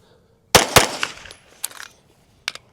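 A gun fires with two sharp, loud reports in quick succession followed by echoing decay and a couple of fainter cracks, heard outdoors at a shooting session with no talk.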